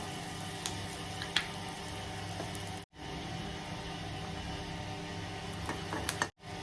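Mustard seeds, urad dal, chana dal and a little asafoetida splutter in hot oil for a Tamil tempering, giving a steady, soft crackling sizzle with scattered small pops and two brief dropouts.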